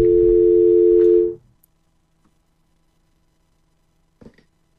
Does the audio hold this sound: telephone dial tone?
yes